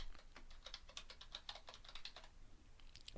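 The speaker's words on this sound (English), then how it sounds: "So I'm going to type in the word description." Fingers type on a computer keyboard in a quick, irregular run of light clicks, quiet and close, with a short pause near the end before a few more keystrokes.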